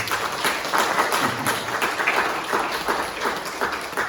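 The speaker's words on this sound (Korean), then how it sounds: "우리 환영의 박수 한번 부탁드립니다" A church congregation claps in welcome for a deacon during a worship service, a steady, dense wash of applause that holds at an even level throughout.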